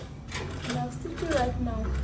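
A sewing machine runs steadily while stitching the lining of an Ankara fabric bowler bag, a close mechanical whir heard under continuous talking.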